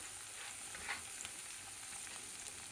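Small home-grown onions from a terrace garden drop into hot oil in a frying pan, giving a soft, steady sizzle with faint crackles throughout.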